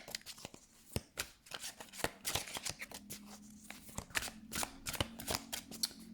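Tarot cards are shuffled and handled close up, giving a run of crisp snaps, flicks and soft riffles at an uneven pace, with a quiet hum in the background.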